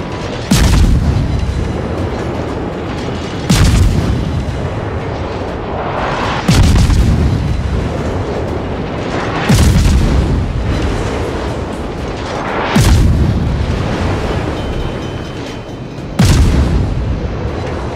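Artillery barrage in World of Tanks: six heavy, booming shell impacts land at roughly three-second intervals, each a sharp loud crack that rolls into a long rumbling decay, with no voices.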